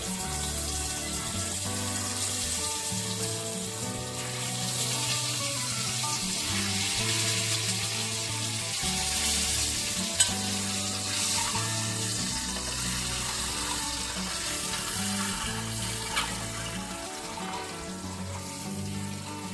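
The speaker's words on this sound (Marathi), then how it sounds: "त्याच्यानंतर बॉईल केलेली जी अंडी आहेत ती आपण याच्यामध्ये टाकून घेणार आहोत" Boiled eggs fry in oil with turmeric and Kashmiri red chili for an egg masala curry. A continuous bubbling sizzle with a watery texture holds steady at close range, with an occasional faint clink and no talking.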